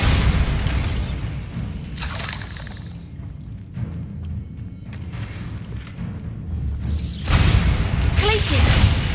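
Bombarda blasting-spell explosions in the video game Hogwarts Legacy, a few heavy booms with shattering debris, loud and close, the first near the start and another at the end, with a quieter rumbling stretch between and a voice talking over parts.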